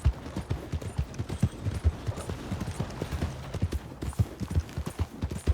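A video-game horse trots with rhythmic, evenly spaced hooves that clip-clop in quick bursts, fairly close and clear, with no talking over it.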